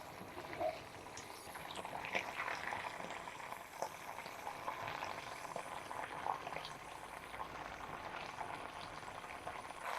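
A homemade herbal salve boils down in a pot on the stove with a steady, soft bubbling and light sizzling. It is faint and continuous, with scattered small pops throughout.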